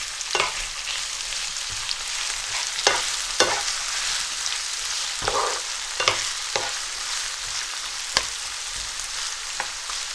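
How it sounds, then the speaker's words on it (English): Two medium brown onions fry in a pan, a steady close sizzle running throughout with scattered sharp clicks and scrapes of stirring, no voices. "the 2 medium-sized brown onions going in. And I'm just going to cook these until they soften, go a nice golden colour"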